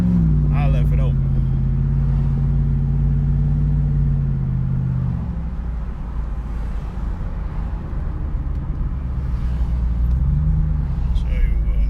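A 2005 Jeep Grand Cherokee 4x4 with its 4.7L engine running on an open exhaust, giving a loud, steady low rumble that rises briefly and then settles back to idle.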